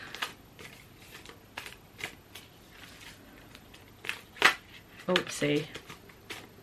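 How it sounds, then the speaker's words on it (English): Large, cumbersome playing cards are shuffled clumsily by hand, making scattered papery riffles and flicks that turn into a louder burst of slapping toward the end, while someone speaks briefly nearby. "Don't judge me on my shuffling."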